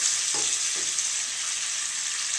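Butter melts in a pan and gives a steady, bright, hissing sizzle, close and loud, with two faint taps of stirring early on and no talking.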